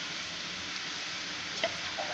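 Murukku frying in hot oil, a steady broad sizzle that holds evenly throughout, with a couple of faint light clicks near the end and no voices.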